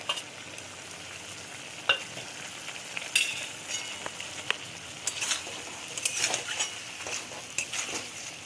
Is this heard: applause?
no